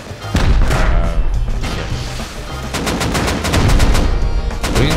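Rapid bursts of gunfire and heavy rocket blasts from a Rust firefight, loud and dense, with booming impacts early on and sharp repeated shots crackling through the second half.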